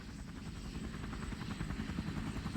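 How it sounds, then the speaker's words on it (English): An OH-6 Loach light military helicopter of the Vietnam War era flies, its rotor a steady, dense throbbing drone that holds at an even, moderate level throughout. "the Loach became the most widely used helicopter of the Vietnam War"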